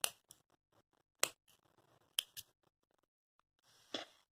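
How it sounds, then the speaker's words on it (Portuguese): Scissors snipping through an elastic band for a crocheted party dress, giving several sharp, close metallic clicks and cuts spaced irregularly in a quiet room. "Eu vou cortar aqui o meu elástico."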